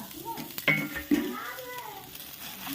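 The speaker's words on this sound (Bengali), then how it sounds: "মাছটা ছেড়ে দিলাম।" Fish lowered into a hot kadai bursts into a sizzle, with two sharp crackling spikes early on settling into a steady hiss of frying, under a voice talking nearby.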